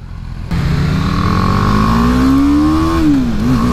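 BMW G310R motorcycle at full throttle: engine kicks in abruptly and climbs steadily in pitch through one gear, loud and close, with a brief shift near the end.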